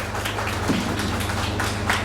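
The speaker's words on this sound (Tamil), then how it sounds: "அவங்களுக்கு ஒரு கரகோஷம் கொடுங்கள்." An audience at a scholarship awards event applauds trustees on stage, with a steady patter of clapping from a moderate-sized crowd over a faint low hum.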